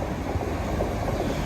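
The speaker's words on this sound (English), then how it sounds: "our train to Barnstaple" A passenger train in Devon heading to Barnstaple rumbles along at speed, a dense, steady roar with faint rhythmic wheel clatter, heard close from inside the carriage, with no voices.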